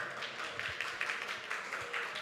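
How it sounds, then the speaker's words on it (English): Faint, distant audience applause for the organizers at a sim racing carnival in Singapore, a soft, even wash of many hands clapping that holds steady without a break and without speech. "Can we give the organizer a very big round of applause?"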